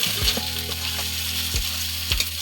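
Garlic frying in a pan for chicken curry, with a close steady sizzle and a few sharp utensil knocks against the pan as it is stirred, and no speech.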